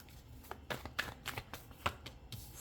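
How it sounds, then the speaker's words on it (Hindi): A deck of tarot cards being shuffled close up, with quiet, repeated riffling flicks and soft slaps of cards in an uneven rhythm. "काफ़ी सारे कार्ड्स आ रहे हैं बार बार, तो शफल करना है अच्छे से"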